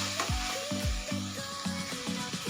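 Raw spice paste frying in oil for a matki gravy, with a quiet crackling sizzle broken by a few spoon scrapes and knocks against the pan.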